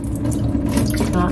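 Tap water running for washing in a Paris bathroom, a steady close hiss and splash filling the whole moment without pause.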